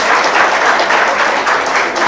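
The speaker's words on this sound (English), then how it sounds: "kindly clap for yourself." A large audience in a college of law hall claps steadily and loudly throughout, a dense, continuous wash of applause at a campus event.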